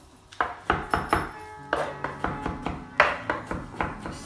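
A knife chops on a cutting board in quick, steady strokes, a dozen or so sharp, close taps with no talking.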